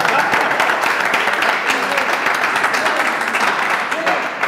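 Audience applause at a press conference, dense steady clapping filling the room throughout, close and loud with no pauses.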